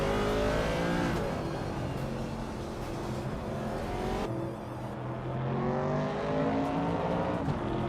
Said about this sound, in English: Vagala Svet is driving a 1968 Chevrolet Camaro, just behind me in third place.